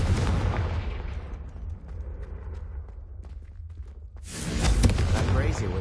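Confringo blasting spell explosion in the video game Hogwarts Legacy: booming bursts and thuds open the clip, fade to a quieter rumble, then a loud blast returns near the end, with game music and sound effects around it.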